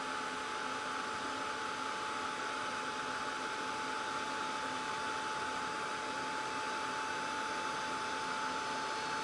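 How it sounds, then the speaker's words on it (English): A hair dryer blows on chalkboard paint coated on a wood slice ornament, making a steady, even whoosh and hum that runs unbroken throughout. "And it dries pretty quickly, but I'll speed it along with my dryer."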